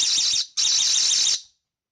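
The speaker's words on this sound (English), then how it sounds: "the alarm will go off" A cheap battery-powered security alarm clipped to a window fan shrills loudly in two close bursts, a brief gap between them, then cuts off to silence.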